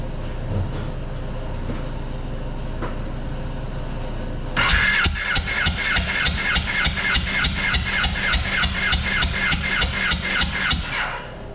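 Kawasaki KRX engine cranking over with the throttle held to the floor during a valve adjustment: after a quiet idle stretch, the starter kicks in with a steady, rhythmic chug of evenly spaced compression pulses for about seven seconds, close and loud, no voices.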